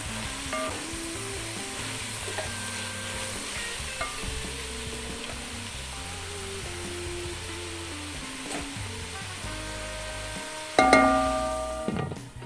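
Onions and carrots sizzle steadily in a frying pan with sweet peppers being prepared alongside, a continuous close hiss with faint stirring, growing louder and busier near the end.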